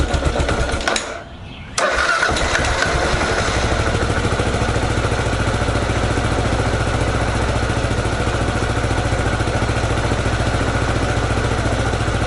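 A Kawasaki KLR 650 motorcycle cranks, catches and settles into a steady, loud idle on choke on a cold engine. The start comes after a short pause, with no talking.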